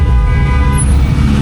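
A vehicle passing close by on a mountain road in Baguio, heard from a moving motorbike as a steady loud engine rumble with a tonal toot-like hum running throughout.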